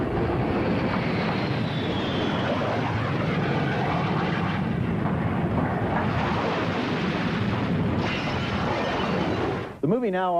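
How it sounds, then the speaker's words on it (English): Bombers streak overhead in a film scene set at the start of World War III, a loud, dense engine roar that fills the whole stretch and cuts off abruptly near the end, with a voice talking over it. "bombers streaking overhead on their way to begin World War III"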